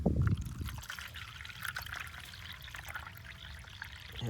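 Water poured into a puppy's water bowl propped on bricks, a soft steady trickle and splash after a brief louder burst at the start, fairly faint and close with no talking.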